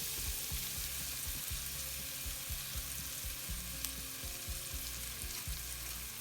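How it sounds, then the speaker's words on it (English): Onion sweats gently in a pan, giving a soft, even, low-level sizzle that runs continuously and quietly with no talking. "we'll just allow that to sweat for a couple of minutes without colouring"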